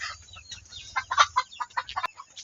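A group of chickens clucks and chatters close by, busy overlapping calls in uneven bursts, with a low hum underneath.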